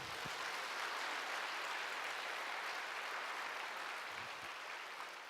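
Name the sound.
church congregation applauding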